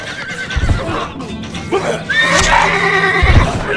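A horse whinnies loudly amid Stronghold Crusader game sound effects, with heavy thumps of hooves and a voice speaking briefly in Arabic over the mix.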